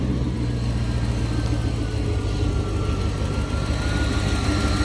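A 1992 Corvette engine, just after a starter repair, runs at a steady, close, low idle, a constant rumble with no talking and no clear start event, lasting about five seconds.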